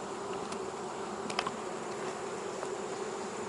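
Honey bees buzz steadily around an open hive during a hive check, a dense close drone with a few individual bees passing nearby and no talking.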